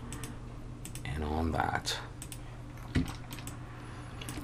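Computer keyboard and mouse clicks tap out in quick irregular bursts while objects are selected in 3D texturing software, close and fairly soft, with a voice speaking briefly over them.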